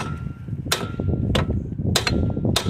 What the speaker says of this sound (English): It helps a lot if you put your foot on the caliper while you're hitting it down.